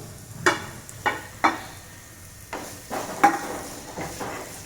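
Chopped small onions, garlic and ginger sauté in a pan, a soft low sizzle broken by about eight sharp spatula scrapes and taps against the metal at uneven intervals, with no talking.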